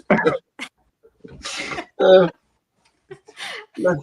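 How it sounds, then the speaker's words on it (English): Someone coughs and clears their throat in short separate bursts, close to the microphone, with brief pauses between them. "I'm trying to stop coughing"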